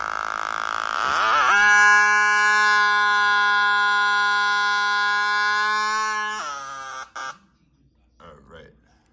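A 12 volt turn signal and siren unit gives a loud, harsh buzzing wail that holds a steady pitch for about five seconds and then cuts off. A couple of short clicks and faint sounds follow.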